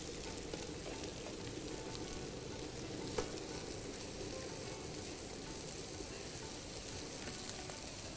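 Water poured into a hot pot of rice pilaf sizzles and hisses in a steady, dense frying crackle, moderately faint and unbroken throughout, with no speech.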